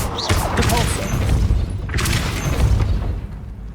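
The Depulso spell in Hogwarts Legacy lands as a loud, close whooshing thump with a booming impact and a mechanical rumble after it, over a spoken voice.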